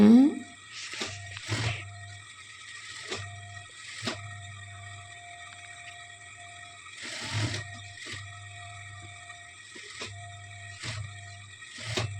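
A sewing machine stitching a churidar runs in short bursts of whirring and clattering separated by quiet pauses, with a low motor hum throughout.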